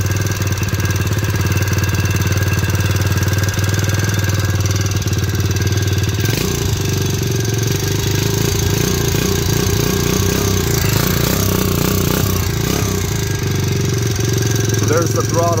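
A SYX MOTO 58cc (60cc) pro mini kids' dirt bike with a pull-start engine runs rough on choke, its small motor buzzing steadily and close throughout, with uneven, lumpy pulses in the middle stretch.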